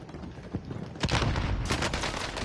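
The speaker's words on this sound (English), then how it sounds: "Ah, he shot me." Gunshots in Call of Duty Warzone go off as a quick volley of sharp cracks with a couple of isolated shots first, moderately loud and close.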